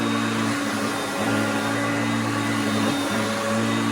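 Hoover Concept vacuum cleaner running on its high-speed setting, a loud, steady motor whine with a constant tonal hum and airy roar, close by, with a few slight dips in pitch as it moves.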